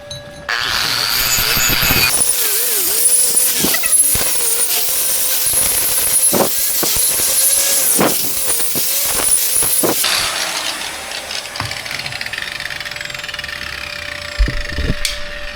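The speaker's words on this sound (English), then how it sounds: "And I'm gonna switch these grinders over." An angle grinder works over flux core welds on a steel DIY barbell jack, a loud, sustained whine with a varying pitch that cuts off partway through, followed by quieter workshop sounds.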